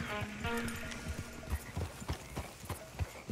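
Horse hooves clip-clopping in a steady rhythm near a stagecoach in Red Dead Redemption 2, close and fairly loud, with wheel rumble and a short whinny-like tone early on.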